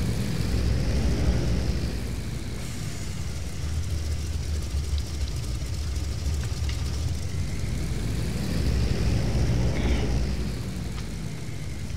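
The engines of an F7F Tigercat on an aircraft carrier in a video game, a steady loud propeller drone that swells and eases slightly as it runs, with no voices.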